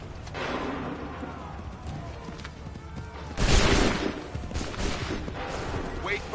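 A single loud volley of massed gunfire crashes out partway through a battle scene in Assassin's Creed 3, preceded by rumbling ambience and a shouted voice, with the noisy echo trailing off afterward.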